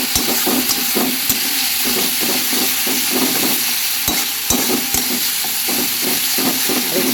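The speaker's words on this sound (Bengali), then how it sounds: "দিয়ে মশলাটা ভালোভাবে ভেজে নিতে হবে" Spice paste fries steadily in a hot pan, a loud continuous sizzle broken by regular scraping strokes of a stirring spoon, close up and with no voices.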